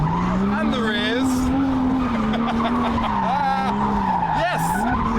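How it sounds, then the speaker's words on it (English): A drift car built on a 370Z underneath with a bespoke chassis warms its tyres at a car show, with loud continuous skidding, wavering tyre squeals and a droning engine close by. "we're gonna warm up the front tyres and the rears"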